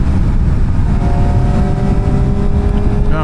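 A 2025 Kawasaki Ninja ZX-4 RR motorcycle engine accelerates, its loud, rising whine climbing steadily in pitch over a rough low roar.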